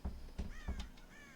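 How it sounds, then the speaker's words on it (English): Crows caw in the video game Red Dead Redemption, three harsh, close caws in quick succession, each with a thump beneath, followed by fainter trailing calls. "God damn crows!"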